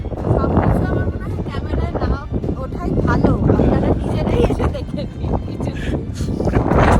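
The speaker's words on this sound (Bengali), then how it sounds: "প্রচন্ড ঠান্ডা হাওয়া দিচ্ছে" Strong, cold wind roars and buffets the microphone in a continuous, heavy rumble, rising and falling in gusts throughout, in a pine forest at Lepchajagat.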